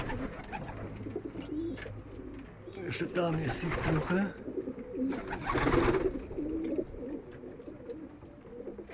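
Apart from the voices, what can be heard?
homing pigeons cooing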